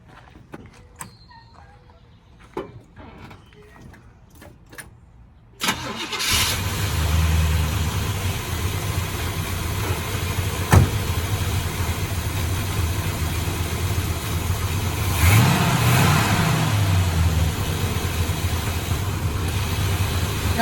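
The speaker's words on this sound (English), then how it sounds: "Step one when checking your transmission fluid is to start the vehicle." A car engine cranks and catches after a few quiet clicks and knocks, then settles into a steady, close idle with a brief rev in the middle and occasional faint voices.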